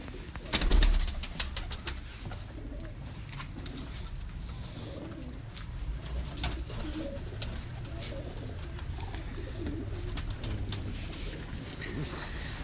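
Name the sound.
breeder pigeons cooing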